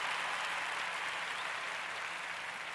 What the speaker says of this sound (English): I can hear the applause, but I can't hear you.